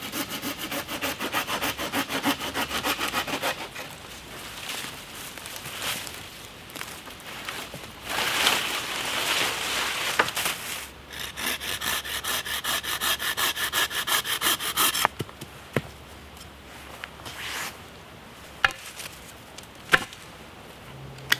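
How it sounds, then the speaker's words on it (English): Hazel wood stakes being bevelled at a bushcraft camp: rhythmic, rasping cutting strokes against the wood, close and continuous, giving way later to sparser sharp knocks and scrapes. "I'm just beveling off these stakes again so they don't mushroom when they go in the ground or split"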